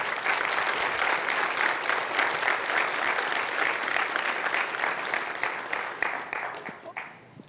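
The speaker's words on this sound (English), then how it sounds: "Let's give them a round of applause." Sustained applause from an audience honoring veterans at a school service academy night, dense and steady clapping that thins out and fades near the end.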